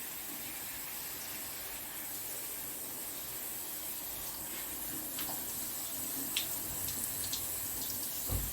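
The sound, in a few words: watering orchid plants with running water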